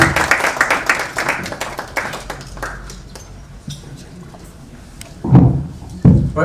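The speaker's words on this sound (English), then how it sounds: "let's give a good round of applause to Honorable Ndindi" Audience applause after a speech by Honorable Ndindi Nyoro, a burst of clapping that thins out and fades, followed by a few louder thumps near the end.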